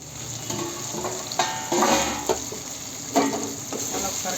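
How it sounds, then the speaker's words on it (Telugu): A vegetable mixture is stirred in a frying pan, with a steady sizzle and repeated scraping strokes of a spoon close by, without talk. "మళ్ళీ ఒకసారి కలుపుకోవాలి."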